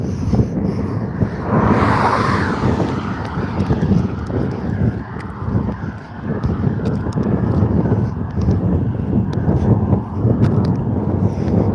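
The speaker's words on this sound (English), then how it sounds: "hopefully it's not too windy for you guys." Strong wind buffets the microphone outdoors during a walk, producing continuous loud rumbling gusts for the whole stretch, with no voices heard.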